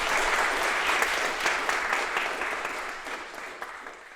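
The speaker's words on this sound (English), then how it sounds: "very warm round of applause" An audience at a lecture gives a warm, dense round of applause, many hands clapping together steadily and then gradually thinning as it fades.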